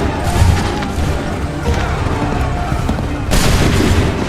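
Gunfire and booming blasts in Assassin's Creed 3, with loud, heavy volleys near the start and again near the end and a rumbling battle din between them.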